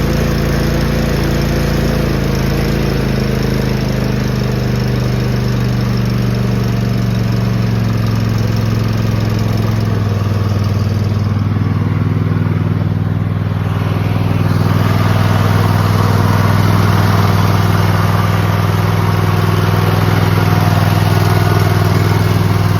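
A Cub Cadet ZT1 zero-turn mower with a Kohler 24 hp engine runs close by, a loud steady idle that shifts tone midway and settles into a slightly stronger, even drone.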